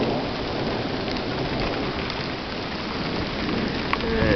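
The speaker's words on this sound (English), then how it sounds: "I don't know if you can hear the thunder." Heavy rain pours down in a dense, steady hiss at a campsite, with a deep rumble of thunder underneath.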